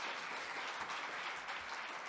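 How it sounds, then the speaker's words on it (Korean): Steady applause from a crowd at an award ceremony, dense and continuous clapping throughout, fairly distant, with no voices over it. "박수로 함께 축하해 주고 계십니다."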